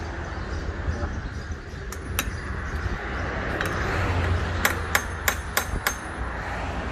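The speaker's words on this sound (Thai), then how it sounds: "เดี๋ยวเราจะทำการเคาะก่อน" A hammer taps on the metal gearbox cover of a Kubota tractor, first a few scattered knocks, then a quicker run of sharp, ringing strikes over a low steady background rumble.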